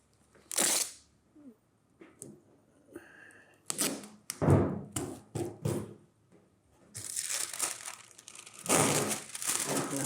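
A thin plastic vinyl sheet is crinkled and crushed by hand in short rustling bursts. It grows into longer, louder crackling passages near the microphone.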